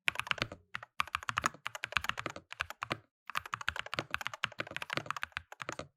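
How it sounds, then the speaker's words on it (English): Fast typing on a Cherry Xtrfy MX 8.2 Pro keyboard with MX Crystal Magnetic switches, close and crisp, rapid clicky keystrokes in dense bursts separated by two brief pauses, with no voice. "Now, the switches themselves are the new Cherry MK Crystal Magnetics."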